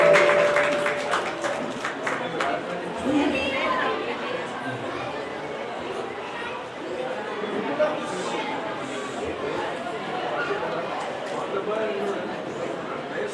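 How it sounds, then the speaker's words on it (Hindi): Guests at a 76th birthday celebration for Sai Vasdevlal Saheb at Shree Guru Mandir, Rajkot, break into applause. A burst of sharp claps at the start gives way to a steady crowd murmur, with people talking throughout. "जोरदार ताली सां स्वागत कयो"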